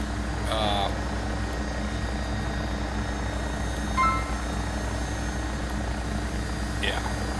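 Engine and rotor drone of an AW109 SP helicopter in the X-Plane 12 flight simulator, a steady low hum running throughout, with a few brief cockpit beeps.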